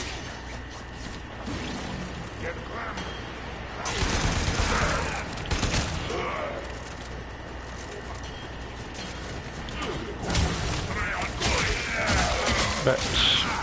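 Automatic weapon fire in a video game, a long held-down burst of rapid shots over a busy game soundscape, louder in a couple of surges, with a voice talking in the background.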